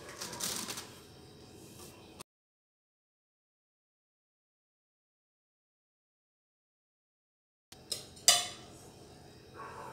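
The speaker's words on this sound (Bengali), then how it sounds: "এবার আমি হাঁড়িটা খুলছি।" A metal lid lifts off a pot of Kolkata-style mutton biryani after twenty minutes of dum on a very low flame. A long silence gives way to a couple of sharp, close metallic clanks and clatter near the end, with no talk.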